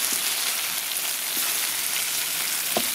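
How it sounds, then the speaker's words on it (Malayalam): Coconut-coated fish fries in a pan over a medium flame, giving a loud, steady hissing sizzle throughout, with a few faint knocks from the pan or a utensil. "നമ്മൾ ഒരു മീഡിയം ഫ്ലെയിമിൽ വേണം മീൻ വറുത്തെടുക്കാനായിട്ട്"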